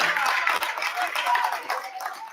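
Crowd clapping and cheering in a gym during a state tournament high school basketball game, a dense, steady wash of applause with noisy crowd voices throughout.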